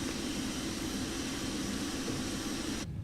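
An airliner jet engine on a Boeing 787-9 in Microsoft Flight Simulator spools up with a steady, broad roaring whine in the cockpit, constant and moderately loud, cutting off abruptly near the end, with no voices.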